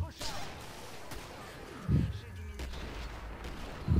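Gunfire in the video game Killing Floor: two heavy, booming shots about two seconds apart, each a short low thump over a faint, busy background.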